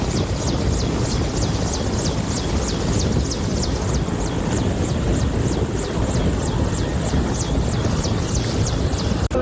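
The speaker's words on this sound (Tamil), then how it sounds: "அவர்களை காப்பாற்ற விமானப்படையின் ஹெலிகாப்டர்கள் ஈடுபடுத்தப்பட்டுள்ளன" An air force rescue helicopter flying over flooded villages after a dam breach, its rotor beating in a fast, steady pulse over loud, continuous engine roar and wind rush, close and sustained throughout.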